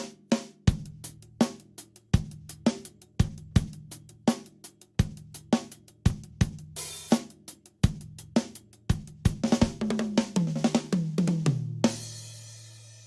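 A DJ-style drum kit beat with a cranked snare muffled by an O-ring, with punchy kick and short dry snare hits in a steady groove, ending in a fill and a washing cymbal crash, close and loud.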